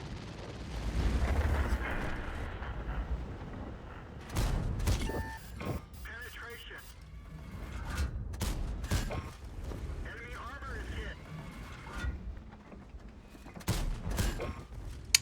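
Tank gun salvo fire in World of Tanks, a rapid series of booming shots and blasts amid in-game mechanical noise, with someone talking over much of it.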